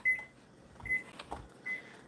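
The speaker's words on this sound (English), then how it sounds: "Okay, there goes the timer." Three short electronic beeps sound at an even pace, close and clear, with faint kitchen clatter between them.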